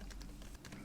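Typing on a computer keyboard, with quick, irregular clicks of keys close by over a steady low hum and no voices.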